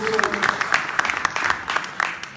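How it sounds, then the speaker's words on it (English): Rally audience applauding, a short burst of dense clapping close and loud, with a voice speaking over it. "Give Christine Pelosi a big round of applause."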